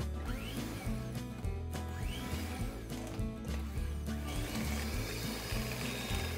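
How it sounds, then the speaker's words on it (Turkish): An electric mixer whirs steadily with rising and falling motor pitch and clattering as the beaters churn through a thick batter seasoned with salt, black pepper and red pepper flakes. "Tuz, karabiber, pul biberimizi ekledikten sonra tekrardan mikserle çırpalım"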